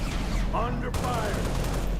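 Gunfire in a video game firefight, a dense burst of shots starting abruptly about halfway through over a steady game background, with a voice speaking before it.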